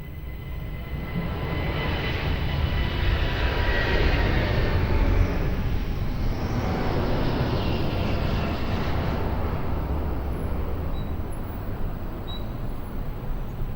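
An airliner on approach to land at Lisbon Airport roars steadily and loudly for the whole stretch, a broad continuous engine rumble and rush that swells slightly in the middle, with no voices.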